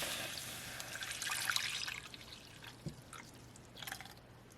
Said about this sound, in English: I'm gonna add the milk and nutmeg and cinnamon mixture